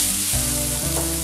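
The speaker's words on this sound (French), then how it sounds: "Je vais rajouter déjà les aromates, avec un peu d'ail dedans. Voilà, on n'hésite pas à les faire griller un peu." Garlic and aromatics frying in a pan for a veal sauté sauce, giving a steady, close sizzle that runs through the whole short moment with a low hum underneath and no voices.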